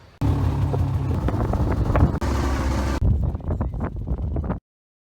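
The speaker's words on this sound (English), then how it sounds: "the wind's really blowing" Strong wind blows across farm fields during a very wet spring, a loud steady buffeting roar rushing over the microphone for several seconds before cutting off abruptly.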